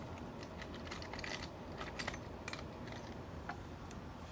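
Bolts rattling in a container in a workshop, with faint metallic clinks and jingles scattered over a few seconds against a low background hum, quiet and close.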